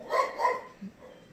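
Two quick dog barks close together, followed by a softer short yip, fairly faint and nearby with no talking.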